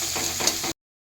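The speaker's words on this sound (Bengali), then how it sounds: "এবার আমি পেঁয়াজটা ভাজছি।" Chopped onion sizzles and crackles in hot oil in a frying pan, loud and close, with soft stirring scrapes, then the sound cuts off abruptly.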